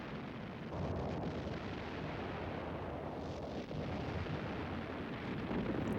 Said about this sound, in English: responded with local counterattacks supported by concentrated artillery and naval gunfire